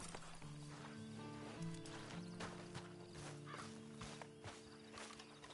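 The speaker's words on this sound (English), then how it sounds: "Then you better get on this horse." A horse in Red Dead Redemption 2 moves with soft, rhythmic clip-clop hoofbeats and faint tack rattles, heard quietly beneath a sustained game music bed.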